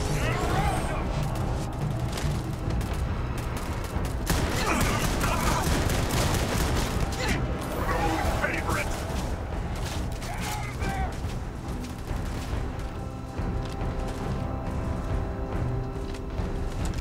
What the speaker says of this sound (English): UC security turns around and shoots me in the freaking face